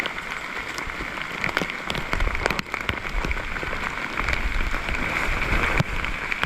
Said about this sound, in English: Good and rainy this morning.